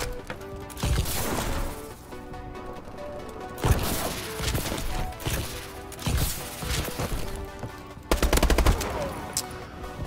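An AK-12 rifle fires in automatic bursts during Call of Duty: Advanced Warfare multiplayer, with dense, loud gunfire and impacts mixed with game music and effects, and no talking over it.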